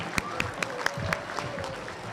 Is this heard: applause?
yes